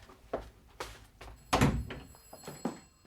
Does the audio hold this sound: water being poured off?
no